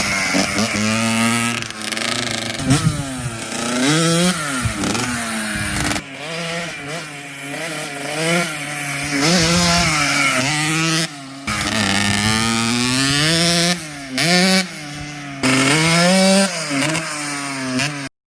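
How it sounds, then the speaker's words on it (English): A Kawasaki KX 65 dirt bike with its factory silencer revs hard and loudly, its exhaust rising and falling in repeated throttle blips with brief drops between bursts, close and raw throughout. "I'll cut to some clips right now of this thing and how it sounds with the factory silencer."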